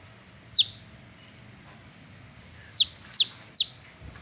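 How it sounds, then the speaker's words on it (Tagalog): A lone chick cheeps in sharp, high peeps: one call, a pause, then three quick calls close by over quiet background. "Isang bugtong na sisiw."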